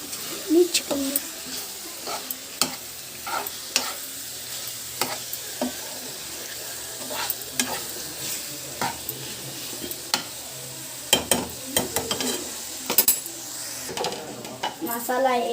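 Chicken fry being stirred in a sizzling pan: scattered spoon scrapes and sharp clicks over a faint hiss of frying, with voices now and then.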